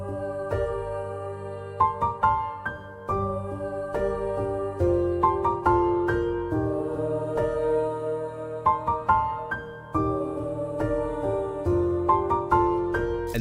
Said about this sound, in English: it's like a really nice choir or like vocals